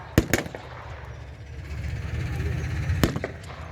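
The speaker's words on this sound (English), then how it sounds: "They fire a few shots, testing." Blank gunfire at an outdoor World War II re-enactment battle: two quick, sharp shots at a distance, then a steady rumble of open-air background noise before one more shot.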